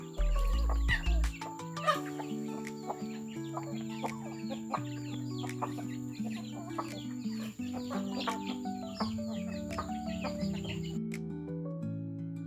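Chickens cluck and chatter in a busy, uneven stream close by, faint under a steady layer of background music that runs throughout.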